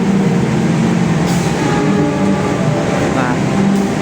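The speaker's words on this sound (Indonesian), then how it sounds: "Jadi kita menunggu terlebih dahulu kereta dari Argo Merbabunya berangkat" Argo Merbabu passenger train at a station, a steady rumbling rail noise of cars rolling past at close range, constant and loud throughout with a faint squeal near the end.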